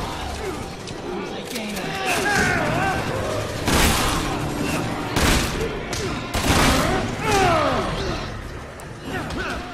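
Gunfire in the Resident Evil 6 video game, several loud broadband shots spread across the clip under a busy game mix, with talk running over the top.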